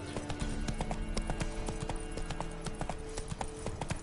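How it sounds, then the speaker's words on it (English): Horse hooves clip-clop at a steady walking pace in The Witcher 3 video game, a close, continuous rhythmic clatter. "Whoa there, Roach"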